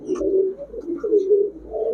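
Pigeons coo steadily and close by, a continuous low rolling burble with soft overlapping calls and no voices.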